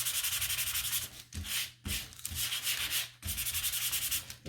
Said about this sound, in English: So I'm gonna give it a quick sand, just make sure you don't have anything for paint on it.